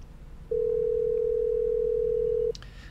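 A video game telephone gives a single steady ringing tone lasting about two seconds, loud and clear over a quiet room background, then cuts off abruptly.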